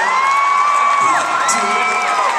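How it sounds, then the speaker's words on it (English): A live comedy audience at the Mesa Arts Center erupts in loud cheering and whooping, with rising and falling shouted voices filling the hall for a couple of seconds. "Clap for Andrew."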